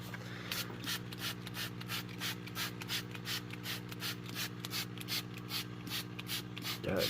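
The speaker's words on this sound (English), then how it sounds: "And I'll spray the top once she's on." A spray bottle mists water over a mushroom-growing setup in a rapid, steady run of short hissing pumps, close and continuous, with a low hum underneath and no one speaking.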